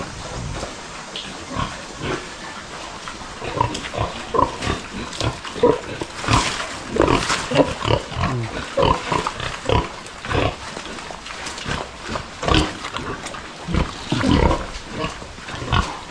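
Pigs grunt and snort repeatedly at close range, an irregular chorus of short oinks and squeals from several animals.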